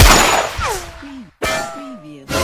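Gunshots in a comedic action scene are fired at an iron mace. Three sharp blasts each ring off into whining, ricochet-like metallic tones, loud and close.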